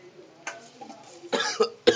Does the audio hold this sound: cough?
yes